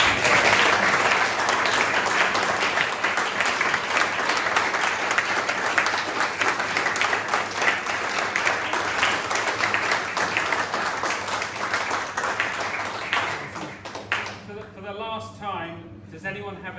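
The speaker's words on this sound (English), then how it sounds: "Can we all give Nick a round of applause?" A club meeting audience gives Nick a round of applause, dense steady clapping that carries on for about fourteen seconds before fading as a voice begins to speak.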